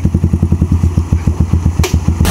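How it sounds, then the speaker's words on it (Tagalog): A motorcycle engine chugs at a steady, rapid thumping rhythm, loud and close, ending with a burst of wind or rushing noise. "So, nahiram natin itong motor ni Kasingin."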